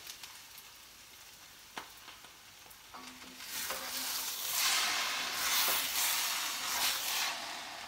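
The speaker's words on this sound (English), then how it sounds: "Let's give it a stir." A pot of vegan four-bean chilli is stirred on the stove, with a few soft scrapes and knocks at first, then a rising sizzle and hiss of the cooking chilli that holds for several seconds.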